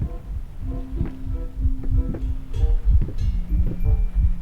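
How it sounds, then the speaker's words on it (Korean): Low, deep heartbeat thumps in a horror video game repeat in a steady rhythm, with a faint tonal hum running beneath them. "그래서 쿵쿵쿵 심장 박동 소리가 들리고요"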